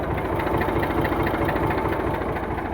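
A tractor engine idling nearby, a steady low, throbbing mechanical rumble with an even rhythmic pulse and no talk over it.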